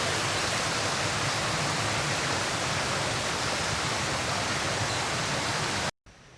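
A creek rushes steadily through Cedar Creek Gorge, a feeder of the Allegheny River, its broad continuous water noise close and even for about six seconds before a brief cut.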